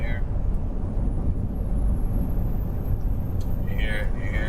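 An 18-wheeler truck's diesel engine idles in neutral with a loud, steady low rumble close by, and a faint high whistle and brief hiss near the end as someone talks over it.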